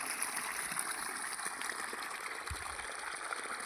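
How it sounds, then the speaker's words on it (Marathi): Water gushing steadily from a solar-powered farm pump onto a garlic field, a continuous broadband rush heard close and fairly loud, with no talking. "ते असं सुंदर असं पाणी सौर ऊर्जेच्या माध्यमातून शेतीसाठी या ठिकाणी उपलब्ध होत आहे"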